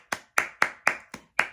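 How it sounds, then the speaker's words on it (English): Six crisp, evenly spaced hand claps ring out close and alone, quiet overall, each a sharp isolated clap with a short decay. "Round of applause for everyone."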